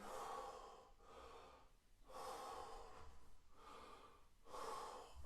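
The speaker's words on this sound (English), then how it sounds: "this is the completely different breathing that I was illustrating" A person demonstrates belly or yoga breathing, with slow, deep, audible breaths close by. Long airy inhales and exhales alternate in a steady rhythm of about five cycles.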